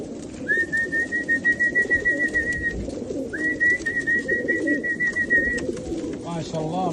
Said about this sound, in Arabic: ودنا نصور الحمام كله، ودنا والله كل الحمام نصور